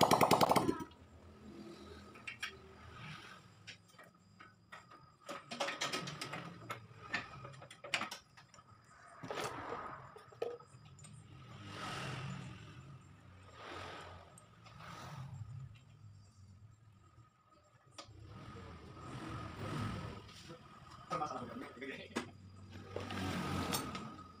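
A Yamaha Vega R motorcycle with a newly fitted exhaust and freshly replaced piston runs with a rapid ticking, rattling idle that rises and falls in uneven bursts, while people talk nearby.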